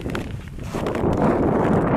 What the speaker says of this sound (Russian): ветер тебя все равно продует